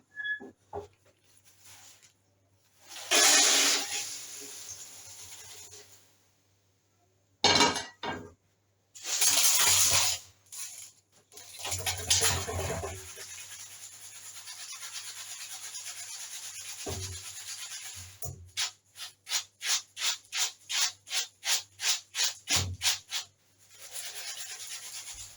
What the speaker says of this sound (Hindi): दूसरे बर्तन में इसको छान लेंगे।